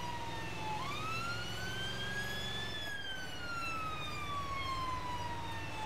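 A Mercedes Sprinter box ambulance on an emergency run sounds its siren, a loud wailing tone that rises and then slowly falls over the steady hum of the moving vehicle.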